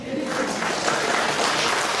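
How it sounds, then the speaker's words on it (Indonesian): A seated audience at an Indonesian business marketing presentation claps steadily, a continuous, fairly loud spatter of applause with no voices over it. "Tepuk tangan buat saya."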